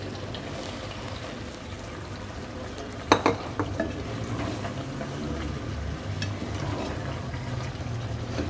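Potatoes and brinjal cooking in a pan with whole chillies and coriander: a steady frying hiss and stirring noise throughout, with a few sharp clatters of a spoon against the pan around the middle.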